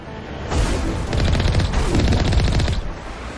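Rapid machine gun fire in the Mass Effect video game, loud sustained bursts of quick repeated shots with a brief pause midway.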